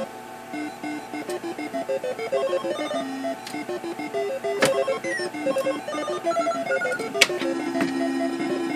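A Mr. Do! arcade game plays its steady chiptune melody of bouncy electronic beeps and tones, with occasional sharp blips from the action, continuous and fairly close.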